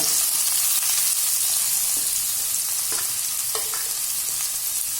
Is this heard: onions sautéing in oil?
yes